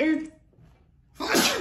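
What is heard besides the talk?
sneeze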